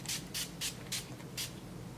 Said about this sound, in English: Let me add my finishing spray, and it's by NYX.